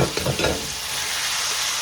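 Chicken for a karahi sizzles and crackles as it is stir-fried in a hot pan, a steady hiss with a few brief stirring scrapes at the start.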